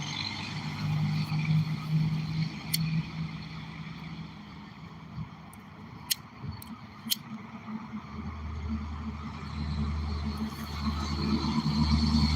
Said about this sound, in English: A lot of trucks go by here, out here, on this street.